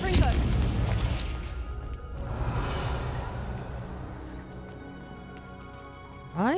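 Confringo fire spell blasts in the video game Hogwarts Legacy: a loud booming burst at the start fades into a rumbling tail, and a second sharp blast hits near the end amid game sound.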